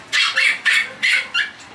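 A small dog yaps five quick, sharp barks in a row, close and fairly loud.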